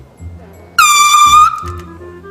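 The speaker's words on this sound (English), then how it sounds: "I have set up in the corner by the door and air horn angled," An air horn rigged in the corner of a garage by the door as a prank blasts suddenly, loud and close, for about a second, with quieter talking murmuring before and after.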